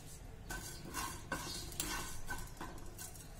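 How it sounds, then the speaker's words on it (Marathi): Coriander seeds and a piece of cinnamon are dry-roasted in a pan and stirred with a spoon, giving faint, regular scraping and clinking strokes over a soft steady hiss. No voices are heard. "आता धने आणि दालचिनीचा तुकडा हा पण थोडासा रोस्ट करून घेऊया।"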